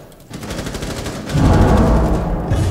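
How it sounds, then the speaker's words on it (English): Sustained automatic gunfire in Rainbow Six Siege, loud and close, with rapid repeated shots that grow heavier and denser midway, layered with overlapping weapon fire. "I'm trying to shoot Breeze to preoccupy him."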